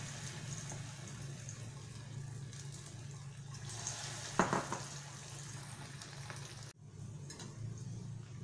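Coated egg manchurian pieces deep frying in oil give a soft, steady bubbling sizzle with a brief crackling burst midway, fairly quiet and with no talking.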